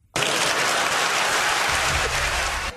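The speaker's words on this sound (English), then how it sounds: "it's a nice cheer at the end too" An audience at a talk-show taping breaks into loud, sustained applause and cheering, a dense wash of clapping that starts abruptly and holds steady at close range.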